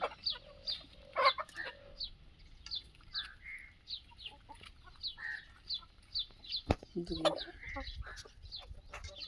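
A large desi free-range rooster on a poultry farm gives repeated clucks and short calls, close and distinct, with some faint background sounds between them.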